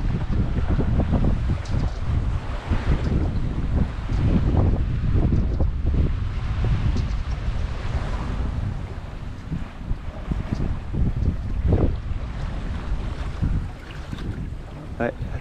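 Strong wind buffeting the microphone on a boat at sea, a constant low rumble with gusts, mixed with the wash of waves and boat noise.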